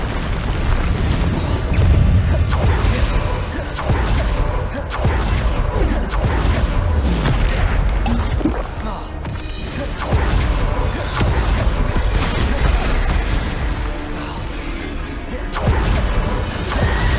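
Repeated Bombarda blasting-spell explosions in Hogwarts Legacy, loud booming bursts and crashes following one another in quick succession throughout, with intermittent voice cues over the blasts.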